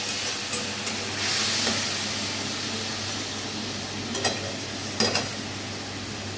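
Spice paste for vegetarian potato dum sizzles softly in a pan with a little water, a steady low hiss broken by a few sharp scrapes and taps of a spoon stirring against the metal.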